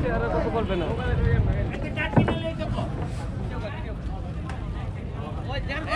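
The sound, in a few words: motor trawler boat engine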